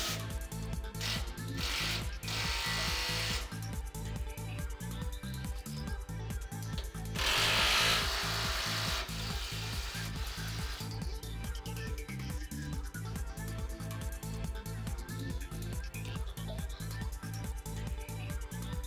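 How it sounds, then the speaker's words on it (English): A power tool tightens the eight bolts on a two-post car lift with fast rhythmic ratcheting impacts that repeat evenly throughout, broken by brief bursts of louder whirring. "Now tighten all 8 bolts."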